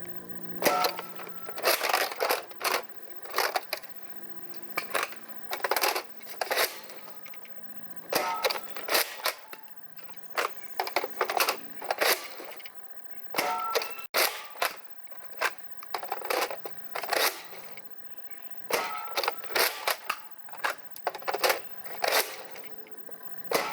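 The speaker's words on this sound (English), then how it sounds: "let's shoot the Trilogy here over the Chronograph stock and see what kind of numbers it gets." A stock Nerf Trilogy blaster fired over a chronograph gives repeated clusters of sharp mechanical clacks and pops, close and fairly loud, with short gaps between volleys.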